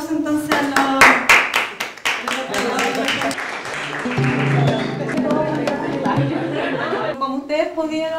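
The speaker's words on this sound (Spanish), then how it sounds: "Démosle un aplauso entonces a los..." A law class clapping in applause, sharp, close handclaps that start loud and fade into chatter and light laughter, with voices talking through the rest.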